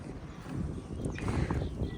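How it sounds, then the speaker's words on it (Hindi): Strong wind blows at the main gate of a village, a loud, continuous rushing roar with gusty buffeting against the microphone and no talking. "इतनी तेज़ हवा चल रही है ना सारी"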